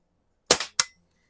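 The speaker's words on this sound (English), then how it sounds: "So I'm probably getting low on CO2. I shot this thing probably about 25 or 30 times this morning." A CO2-powered air gun fires one sharp crack, followed a quarter second later by a second shorter snap, likely a pellet strike, both close and crisp against silence.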